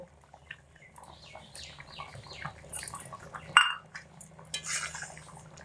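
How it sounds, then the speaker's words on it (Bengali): Metal spoon scraping and clinking in a pan as fried spices are stirred into a potato curry, with soft stirring and shuffling sounds at close range, one sharper clank midway. "ভাজা মশলা দিয়ে হালকা একটু নাড়াচাড়া করে নিয়ে"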